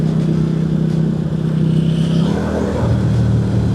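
QJ Motor SRV 250 AMT automatic motorcycle accelerating, a loud, close engine drone with a steady low hum and wind rush that shifts in pitch partway through as the bike gathers speed.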